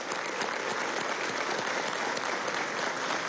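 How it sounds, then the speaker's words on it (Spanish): Audience applause for a visiting delegation at a Venezuelan political event, thick continuous clapping from many hands at a steady loud level throughout, with no talking. "Quiero pedirle a todos ustedes un fuerte aplauso para ellos"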